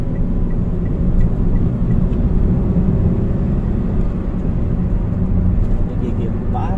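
Daihatsu Sigra 1200cc, past 100,000 km, driving in second gear at high revs: a steady, loud engine drone and road rumble that runs throughout, with a voice talking over it.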